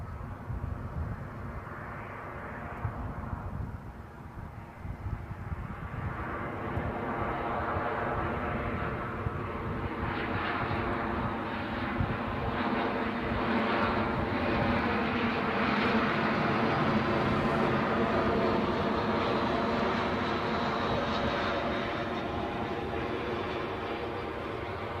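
An Aegean Airlines airliner passes by at Edinburgh airport, a broad rushing jet roar that grows in and holds steady at a fair distance, with a swelling whine rising through it and no one speaking.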